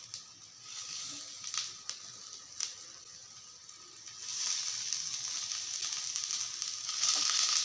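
Rice-flour cutlets with carrot and onion frying in oil on a pan give a steady, close sizzle that grows denser and louder midway, with a few sharp crackles near the start.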